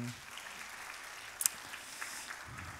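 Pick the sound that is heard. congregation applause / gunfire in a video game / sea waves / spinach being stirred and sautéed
congregation applause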